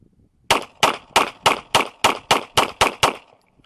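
A Polymer80 G34 pistol fires ten rapid shots in an even, quick rhythm, each a loud, sharp crack with a short decay, followed by quiet.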